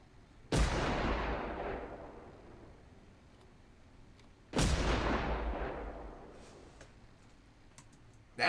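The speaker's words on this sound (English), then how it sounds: "That boy stopped time with a double-barrel shotgun." Two heavy blasts from a double-barrel shotgun in a movie scene, each a sharp boom that rings out and slowly decays over several seconds, spaced about four seconds apart.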